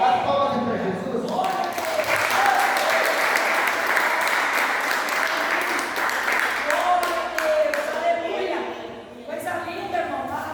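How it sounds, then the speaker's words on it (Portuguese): A church congregation at a teaching service claps steadily for several seconds, mixed with voices and talk at the start and again as the clapping fades. "As palmas para Jesus."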